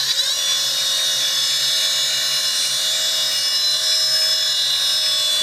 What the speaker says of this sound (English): Let's try turning the spindle on and see if it mangles up this brush